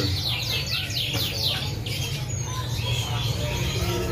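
Scotch Fancy canaries at a bird market in Malang chirp and squawk in quick overlapping bursts over a steady crowd murmur, close and fairly clear.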